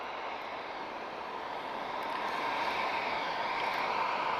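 A TAP Airbus A320 jet at Lisbon Airport gives off a faint, steady, distant engine hiss that builds slightly over a few seconds, with no voices.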